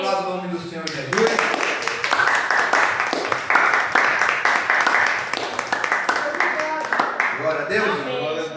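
A church congregation bursts into sustained applause, dense clapping that swells and continues for several seconds, with a speaking voice heard briefly at the start and end.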